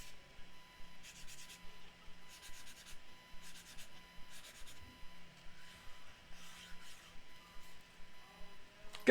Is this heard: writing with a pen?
yes